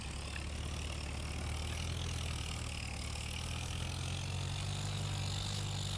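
Allis-Chalmers tractor engine in Farming Simulator 25 runs at a steady low idle, a constant deep rumble with an even hum layered over it, close and unchanging throughout.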